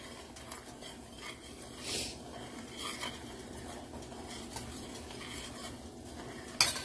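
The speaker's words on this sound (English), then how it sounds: "So I'm gonna just stir that in." Crab boil stirred in a cooking pot with a utensil, a steady low scraping and sloshing with occasional clinks and a sharper knock near the end, no voices.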